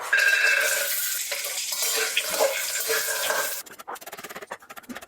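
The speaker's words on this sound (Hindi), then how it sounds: "अभी मैं डालूंगी 1 कटोरी काजू, उसको हल्का रोस्ट करूंगी" Cashews, one bowlful, lightly roasting in refined oil in a kadai give a steady close sizzle with faint stirring scrapes, ending in a rapid chopping-like clatter.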